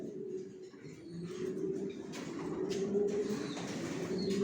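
Many pigeons coo in a loft, a dense, steady low murmur of overlapping calls that carries on throughout with no talk.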